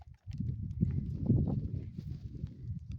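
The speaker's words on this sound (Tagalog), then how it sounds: "Kabayo ko ng hacienda dito." Horse hooves clip-clopping at a walking pace on a mountain hacienda in Kayapa, Nueva Vizcaya, close by, with a soft scuffing rhythm and faint background noise.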